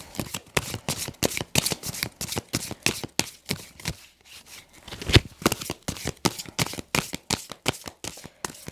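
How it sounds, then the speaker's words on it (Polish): Tarot cards being shuffled by hand, with a close, rapid run of crisp riffling flicks that pauses briefly midway and then resumes, with no voice. "Przetasuję karty dla Was"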